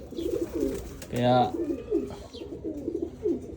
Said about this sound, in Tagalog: Lumalapit na mga kalapatids.